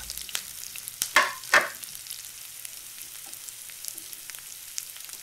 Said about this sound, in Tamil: வெங்காயம் லேசாக வதங்கின உடனே இஞ்சி பூண்டு விழுதை போட்டு கொஞ்சம் கிளறி விட்டுக்கோங்க.